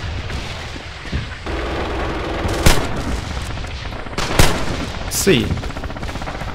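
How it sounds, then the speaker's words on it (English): Gunfire in the World War II shooter Red Orchestra 2, with several sharp, loud shots standing out over a busy battle background and a brief spoken word. "And when I have a gun like this, I suddenly have something like ability to shoot."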